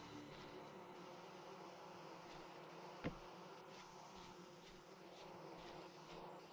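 Bees swarming in the game Vintage Story, a faint continuous buzzing drone with one brief click partway through, no speech.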